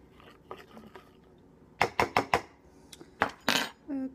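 A spoon clinks repeatedly against a mug while stirring a sugar and water mixture, bursts of sharp metallic taps, a quick cluster in the middle and a few more near the end, close and clear.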